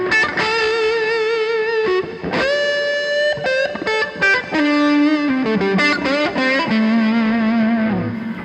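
An electric guitar plays a distorted blues line through a Hall of Fame Reverb pedal loaded with a Neon Blues TonePrint, its reverb cranked to roughly a six-second decay so sustained notes and chords bloom and linger loudly, with no voices.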